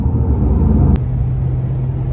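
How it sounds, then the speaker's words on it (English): A 1978 Pontiac Bonneville cruises on the interstate, giving a steady low engine and road rumble with a brief sharp knock partway through; no talk. "The car is going very smooth"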